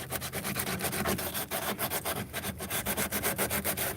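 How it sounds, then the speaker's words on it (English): Sandpaper rubbed by hand over a damaged ding on a small surfboard, a close, steady scratchy rasp in quick back-and-forth strokes with no talking. "Next thing is a little sandpaper. And you want to sand just a little bit out from the edge where the ding is"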